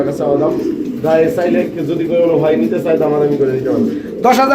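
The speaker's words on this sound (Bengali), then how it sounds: "আর এই যেটা হচ্ছে মাদি কবুতর" Pigeons, including a female, coo in low, rolling bursts, close by and fairly loud, repeating through the whole stretch with a busy background at a fancy pigeon farm.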